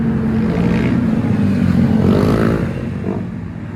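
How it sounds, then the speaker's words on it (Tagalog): Motorcycle engines rumble and rev loudly nearby in a continuous low drone, with rising and falling throttle swells through the middle before easing off slightly at the end. "pakinggan nyo lang yung makina ng mga motor"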